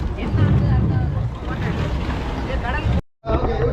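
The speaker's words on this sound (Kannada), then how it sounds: "10 ದಿನ ಆದಮೇಲೆ ಇದು ಬೋಟ್ ಬರ್ತಾ ಇದೆ." A fishing boat returning to harbour after ten days at sea: a steady low engine drone with wind buffeting the microphone, continuous and fairly loud, briefly cutting out near the end.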